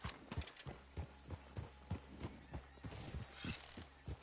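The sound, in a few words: horse hooves and whinny, video game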